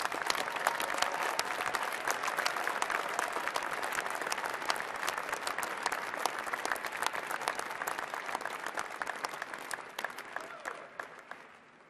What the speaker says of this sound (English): Please join the Dean in a round of applause for all our doctoral degree recipients.